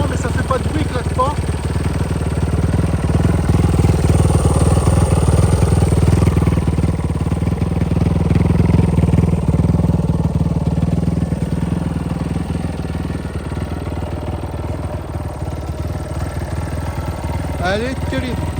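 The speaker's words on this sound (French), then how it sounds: "Super moto." A CRZ XDURO 2024 motorcycle engine idles steadily for the whole stretch, a low throbbing rumble close by, with occasional faint clatter on top.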